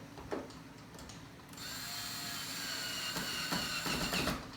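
A power screwdriver drives screws into wood while a DIY bench is assembled, with a brief burst followed by a sustained loud whirring run lasting several seconds, close by.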